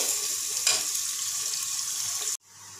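Onions frying until golden in a pan of hot oil for a korma, a loud, continuous close sizzle with a brief stir that cuts off abruptly near the end.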